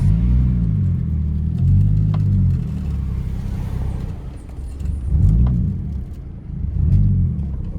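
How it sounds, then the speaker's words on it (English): A car passes on the road beside a waiting manual-transmission car set up for a rolling launch with a trans brake, its engine rumbling steadily and close, with swells as the passing vehicle goes by. "Let this car pass."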